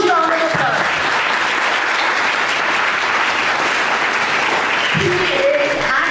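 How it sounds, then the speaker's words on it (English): Sustained audience applause fills a seminar hall, dense steady clapping from a large crowd at close range, holding at full strength for several seconds without a break. "Let's welcome him with a huge round of applause."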